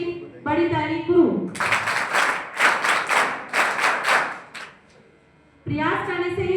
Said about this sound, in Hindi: भाई के लिए भी बड़ी ताली शुरू।